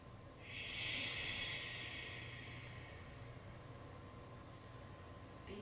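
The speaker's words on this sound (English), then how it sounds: "Let your family hear you breathing in the other room." A single deep, audible yoga breath in Ujjayi style: a long, soft, breathy rush that swells in the first second and then slowly fades. The room is otherwise quiet, with a faint steady hum underneath.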